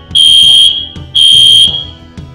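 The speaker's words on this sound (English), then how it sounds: "the alarms are back" A loud, shrill electronic alarm in the video game Breath of Fire 3 sounds in two piercing beeps of about half a second each, separated by short gaps, over low thudding in the background.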